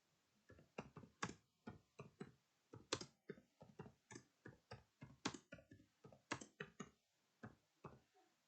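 Quiet, uneven bursts of key clicks from typing on a computer keyboard, tapping steadily in short clusters with brief pauses.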